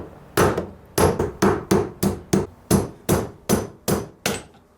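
Eleven sharp, evenly spaced hammer blows on a nail used as a punch against a motorcycle fork dust seal during a YZ125 rebuild, loud and close with no talk.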